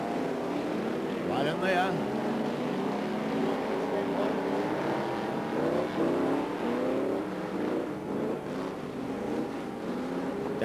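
Stock cars at a 1989 stock car championship meeting roar past on the track in a continuous loud engine drone with rising revs, while a race commentator talks over the noise.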